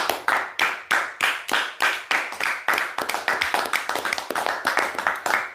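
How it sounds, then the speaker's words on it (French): A church congregation claps together in a steady rhythmic beat, sharp hand claps close and evenly spaced, speeding up slightly toward the end. "Applaudissons pour le Seigneur"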